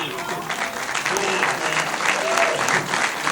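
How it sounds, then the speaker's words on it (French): A large audience of about 2,500 people at an awards ceremony applauds a jury-prize film, the clapping dense and steady throughout, with faint voices and a cheer or two rising over it. "2500 personnes qui sont en train d'applaudir"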